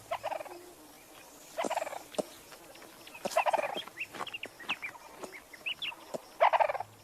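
Ring-tailed lemurs in forest give repeated alarm calls at a buzzard, a series of sharp, clucking bursts spaced irregularly, moderately close against a quiet background.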